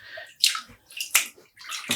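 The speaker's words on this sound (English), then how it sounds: "We'll add the yarn in the water again." Wet, splashy sloshing comes as non-superwash wool yarn is lowered back into a dye bath at home, with several short watery pulses close by.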